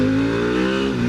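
A Harley-Davidson CVO Pan America motorcycle engine revs loud and close, rising steadily and then dipping briefly as it shifts from first to second gear.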